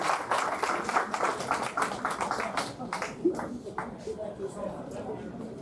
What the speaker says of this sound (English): please give another round of applause for our 9th president of Essex County College